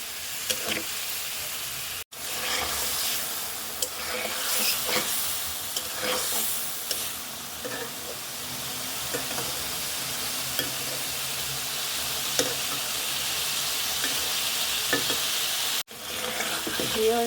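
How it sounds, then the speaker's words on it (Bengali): Fish and spices stir-fried together in a pan for a Bengali curry, a steady loud sizzle and frying hiss throughout with repeated scraping stirs, two brief dropouts, no talking. "যাতে নিচে পুড়ে না যায় আর মশলাটা ভালো করে কষানো হয়, মাছটাও ভালো করে কষানো হয়।"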